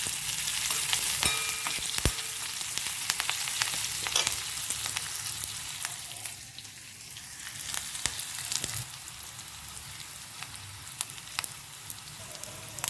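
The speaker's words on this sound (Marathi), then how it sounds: "ही मिरची तडतडली" Steady crackling sizzle of green chili, curry leaves and mustard seeds frying in hot oil, with sharp pops and spatters scattered throughout, close up and continuous.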